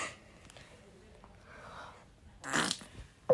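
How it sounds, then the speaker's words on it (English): A fart during a family farting challenge comes as one short, fairly close burst near the end, following a quiet stretch with faint breathy noise and a brief voice. "We're doing a farting challenge."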